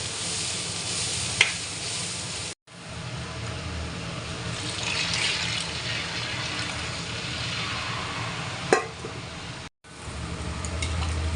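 Hot water poured onto spices frying in a pan for a Bengali cabbage dish, a loud rushing sizzle with watery hiss, broken by two brief cuts and a couple of sharp clinks.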